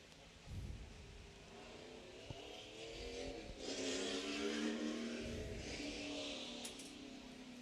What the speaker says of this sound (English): the number 2 car coming on out.